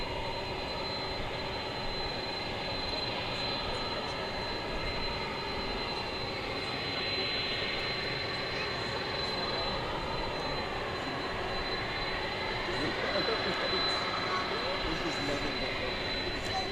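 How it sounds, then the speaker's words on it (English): A Boeing 767 jet landing at an airport, its broad engine roar holding steady and fairly distant throughout, with a faint voice speaking beneath it. "Here comes that 767 we saw landing a few"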